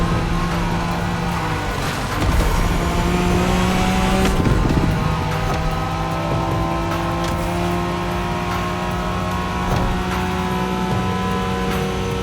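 A Nissan Skyline races in The Crew Motorfest, its engine droning steadily at high revs with shifting pitch and brief tire squeals, loud and close.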